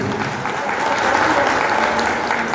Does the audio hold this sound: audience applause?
yes